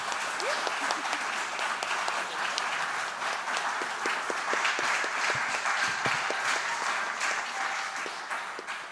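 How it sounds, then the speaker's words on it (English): Audience applause for a composer at a Gaelic song event, a steady, even wash of many hands clapping at moderate distance, fading slightly at the close. "So I think a round of applause for our composer."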